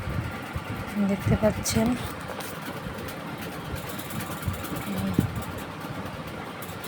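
A sewing machine stitches stretched rubber elastic onto a salwar, its running motor hum steady and close, mixed with handling noise, while someone talks over it throughout.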